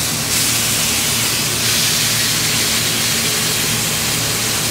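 A thick Hiroshima beef sirloin steak sizzles in a frying pan with little oil around it, giving a loud, steady broadband hiss that runs unbroken through the whole stretch with no talking.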